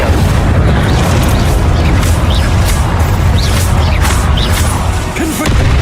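A fire spell cast in the video game Hogwarts Legacy on PS4 Pro, heard as a steady, loud roaring burst of flame and booming magic that runs continuously with scattered crackling and whooshes.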